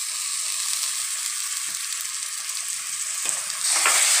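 Mutton curry stirred in a pan in a village kitchen, a continuous loud close sizzle and frying hiss with light scraping of the spoon, swelling louder near the end, with no talking.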